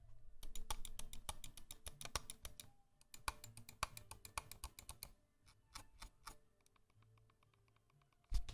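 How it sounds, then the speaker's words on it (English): Rapid runs of crisp, close clicks from a Logitech G Pro X Superlight mouse's buttons tap out in bursts, pausing briefly between flurries, with a faint low hum underneath. "give you guys a little example on the microphone here of what the clicks sound like"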